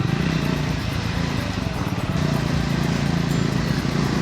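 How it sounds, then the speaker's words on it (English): A motorcycle is ridden on an early-morning test ride, its engine droning in a steady, continuous buzz close by with constant wind rush and no break. "I'm just riding this bike wherever it takes to me."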